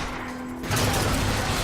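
Rocket fire in the Bioshock Infinite video game erupts as a sudden loud whooshing blast partway through, following quieter mechanical rumble, dense and close.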